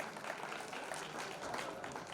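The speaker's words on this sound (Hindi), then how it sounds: "इनके सम्मान में जोरदार तालियां बजाइए।" Steady, dense applause fills a hall at a community awards ceremony honouring a youth leader, many hands clapping at an even level throughout with no talk on top.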